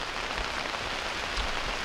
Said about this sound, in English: yeah, it literally rained all day today